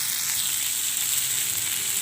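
Potato, onion and eggplant sizzle steadily in a frying pan, a continuous close crackle of hot oil with no pauses or voices.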